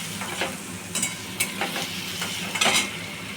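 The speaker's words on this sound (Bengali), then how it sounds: "এবারে আমি পেঁয়াজটাকে ভালো করে লাল লাল করে ভাজবো।" Onions frying in a pan for chingri posto, stirred with a spoon: a constant close sizzle with rhythmic scraping strokes every half second or so, no voices.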